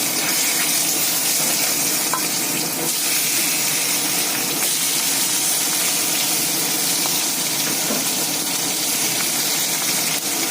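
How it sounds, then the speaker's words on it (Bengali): Mola fish frying in hot oil gives a steady, dense sizzle and hiss that runs without a break from start to end, fairly loud and close, with no voices. "তো এবার এই আর মাছটাকে ভাজতে দিয়ে দেবো।"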